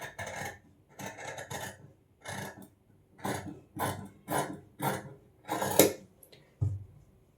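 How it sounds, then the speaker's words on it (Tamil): Scissors cut the front neckline of a blouse cloth, making a rhythmic series of close, crisp snipping and rasping strokes separated by brief pauses. "இப்போ முன்கழுத்து வந்து கட் பண்ணிவிட போகிறேன்"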